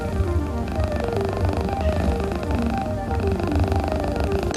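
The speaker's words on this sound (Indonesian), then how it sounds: "Kamu mungkin sering dengar suara kucing mendengkur saat mereka merasa nyaman." A cat purrs steadily and close up, a continuous low rhythmic rumble with soft musical tones layered over it.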